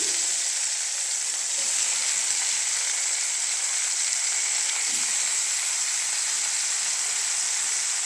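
Tomatoes and garlic fry in a pan with eggplant, giving a loud, continuous close-up sizzle and hiss that stays steady throughout with no talking.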